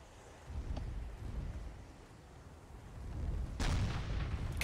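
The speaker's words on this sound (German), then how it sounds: "Kanone feuert!" A cannon fires in the fantasy battle game Warhammer: Mark of Chaos, a sharp blast rising out of low rumbling battlefield noise, with a few distant thuds before it.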